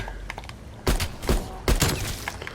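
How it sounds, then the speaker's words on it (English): Gunfire at zombies in Call of Duty Cold War rings out in three short, sharp bursts spaced about a second apart over a low game background. "I'm gonna take a couple shots of these zombies"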